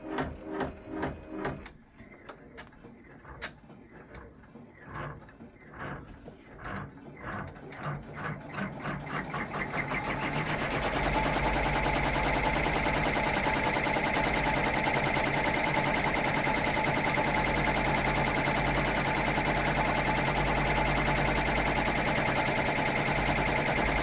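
An embroidery machine sewing the placement stitch for an ornament, starting as separate mechanical clicks that quicken into a steady loud whirring and rattling hum running for many seconds, heard alone.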